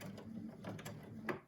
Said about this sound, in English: I'm sewing close to the edge, trying to estimate about 1/8 of an inch.